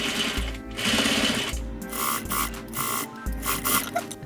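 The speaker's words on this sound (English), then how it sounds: "Sew your shield to your front leg along the pinned edge using 1/2 inch or 13 millimeter seam allowance." A sewing machine stitches a trouser shield to the front leg along a pinned edge, running steadily and close with brief changes in speed and a few pauses.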